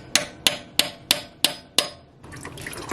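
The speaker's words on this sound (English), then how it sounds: "I'm gonna punch a hole right in the middle so all the oil will drain" Six sharp, evenly spaced metallic hammer strikes punching a hole in a car's oil filter, then a soft trickle as oil begins to drain.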